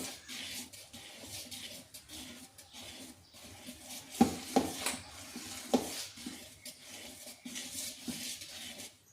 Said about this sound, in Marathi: आता 5 मिनिटं याच पद्धतीनं चमच्याने हलवलेलं आहे.